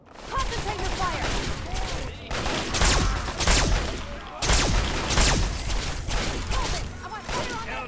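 Dense gunfire crackles through a battle in the video game Fallout 3. Sharp volleys of shots come in repeated loud bursts and rolling fusillades, mixed with shouted voices.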